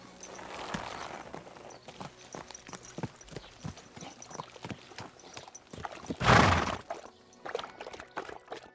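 Horse hooves clip-clop in a steady walking rhythm through a Kingdom Come: Deliverance II game scene, close and moderately loud, with a louder rushing burst midway, as of a splash or stumble, before the hoofbeats resume.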